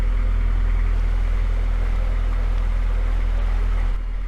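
A canal boat's engine runs steadily and loud throughout, a constant low rumbling drone dominating the clip, with a slight change in tone near the end.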